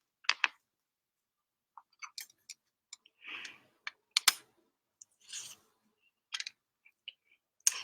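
Small cuticle scissors used for hangnails and precise corner cuts snip in short, crisp clicks, scattered irregularly with brief pauses between, close up and alone in a quiet room.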